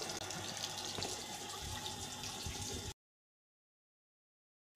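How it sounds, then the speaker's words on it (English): A cold water tap feeding a hot water tank on a summer cottage's DIY solar system runs in a steady, fairly close rush of flowing water for about three seconds, then stops abruptly into silence. "now I open this tap to add the cold water"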